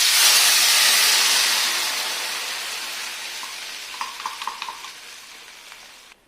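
Homemade curry paste dropped into hot oil in a pan gives a loud, close, steady sizzling hiss that slowly fades, with a few light clinks of stirring near the end.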